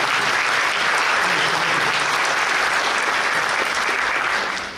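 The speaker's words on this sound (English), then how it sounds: "Let's give her a round of applause." Steady, dense applause from a large audience at a firefighter academy recruit graduation ceremony, sustained evenly for several seconds before starting to fade at the end.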